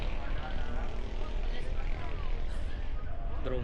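Camera drone flying over a glass walkway attraction at Monte Maria, its steady propeller whir loud and close throughout, with faint crowd chatter in the background.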